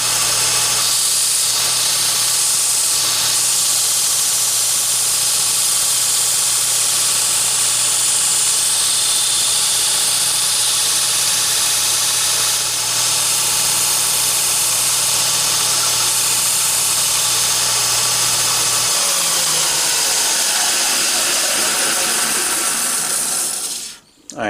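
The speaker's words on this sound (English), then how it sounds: "Now we're going to go move over to the belt grinder, the 2x42, and get this close to layout." A 2x42 belt grinder shapes a steel karambit blade, a loud, continuous high-pitched hiss of abrasive belt on metal over a steady motor drone that winds down at the end.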